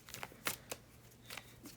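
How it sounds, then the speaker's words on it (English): Tarot cards being shuffled by hand in a quiet room, a few short crisp riffling bursts spaced irregularly, close and fairly soft with no talk. "I shuffle."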